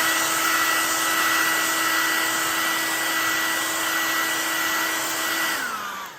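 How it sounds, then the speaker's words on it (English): A hair dryer heating grip tape on a Mossberg Shockwave shotgun runs loud and steady with a whining motor tone, then spins down as it is switched off at the end. "I'm going to go ahead and heat it with the dryer again."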